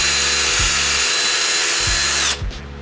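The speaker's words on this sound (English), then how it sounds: "I'm just going to drill a pilot hole directly up the center" A power drill bores a pilot hole up the center of a piece of wood: a loud, steady whir with a couple of low thumps, then the motor cuts off and spins down near the end.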